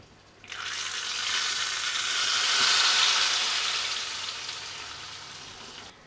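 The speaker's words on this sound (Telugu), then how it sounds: "ఇప్పుడు ఈ తాలింపు తీసి మనం పప్పులో అయితే వేసుకుందాం." Hot tempering poured into tomato dal bursts into a loud, steady sizzle that swells and slowly fades, close by with no voices.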